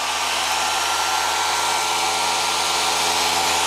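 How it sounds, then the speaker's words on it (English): A small cooling fan on a homemade lab laser build runs with a steady, loud broadband whir that holds constant throughout, with no talking. "Now the laser will not shake while being cooled by the fan."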